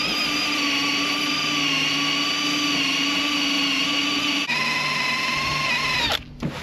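An eraser wheel spun by a drill strips stickers off a truck, giving a loud, steady whine that holds for about six seconds before cutting off abruptly.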